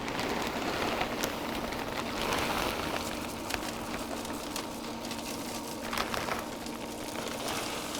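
Apple wood pellets pour into the hopper of a Camp Chef pellet smoker as a quiet, continuous rattling patter dotted with sharper clicks, like light rain on a hard surface.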